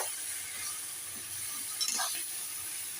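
Vegetables get stirred in a cooking pan, a soft continuous sizzle with a brief scrape and clink of the spoon partway through, fairly quiet and close.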